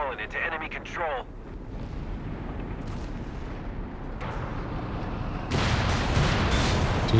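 A whiz-bang rocket artillery barrage in Company of Heroes 3, a rumbling roll of distant blasts building into a louder crash near the end, with voices talking over it.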